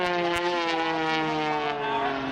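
Extra 300S aerobatic airplane engine during an airshow routine at Sun 'n Fun: a loud, steady propeller drone with strong harmonic tones, diving and holding throughout.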